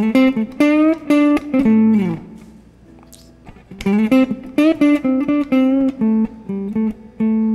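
Electric guitar plays a bluesy melodic line of sustained, bending notes over changing chords, with a brief quiet pause midway before the phrase resumes, loud and close.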